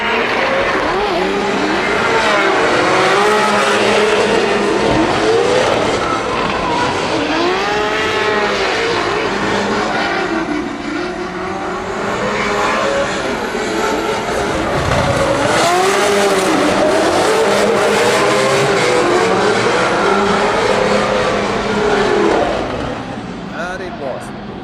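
A Mustang and a BMW F22 drift car chase each other during drift practice at DMGP Ireland, their engines roaring loud and continuous with rising and falling revs and tire squeal, under constant commentary.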